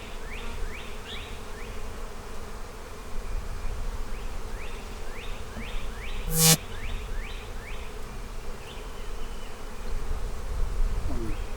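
Honey bees buzz steadily around an opened hive during an inspection, a dense close hum with individual bees sweeping past, a sharp knock midway and no talk.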